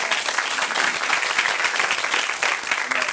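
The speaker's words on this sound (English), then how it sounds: "give a round of applause to you as being the pioneers for this building" Audience at a USC Annenberg School for Communication building event breaks into sustained, dense applause, loud and continuous throughout.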